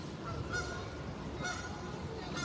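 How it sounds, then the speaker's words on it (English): Several geese honk in a city park, the calls rising in short bursts at intervals over a steady outdoor background, moderately close and fairly loud. "Goose. He says a goose."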